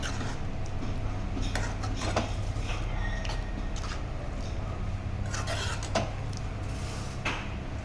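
A spoon stirs green chicken curry in a pot after lemon juice is added, with repeated scraping and clinking strokes against the metal, close and fairly loud, no voices.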